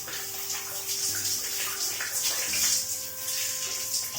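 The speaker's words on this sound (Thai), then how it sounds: "ผมจะเปิดมา น้ำประมาณนี้นะ" Water runs from a bathroom tap in a steady, close rush of splashing that stays loud and even throughout, with no voices.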